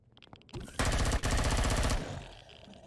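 Rapid automatic gunfire in the space survival game Empyrion Galactic Survival, a loud, dense burst lasting just over a second, preceded by a few quicker shots and trailing off into a fading rumble.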